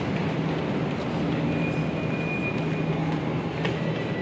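Delhi metro train rumbling at a station platform, a steady loud low roar with a faint high whine running through it, no talk.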